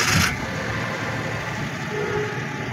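A 2013 Suzuki Every van engine starts with a short burst, then settles into a low, steady idle hum close by. No one speaks.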